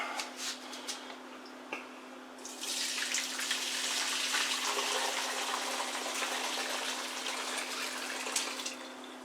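Liquid is poured from a pot through a large fine-mesh colander, starting with a few light drips and then turning into a steady, close rushing stream. A constant low hum sits underneath, and no one speaks.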